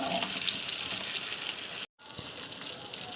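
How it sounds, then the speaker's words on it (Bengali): Close, steady sizzling of eggplant frying in oil, a bright crackling hiss broken by a brief silent gap partway through. "দেখতেই পাচ্ছেন বেগুনটা ভাজতে শুরু করে দিয়েছি"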